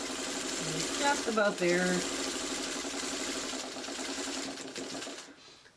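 A sewing machine runs continuously, stitching flying geese quilt blocks for a chevron pattern, with a steady close whir while a person talks briefly over it before it slows near the end.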